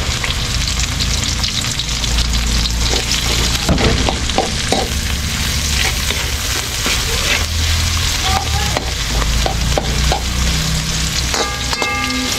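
Garlic and onion toasting in hot oil, a loud, continuous close-up sizzle with crackling pops and occasional scrapes of stirring; no talking.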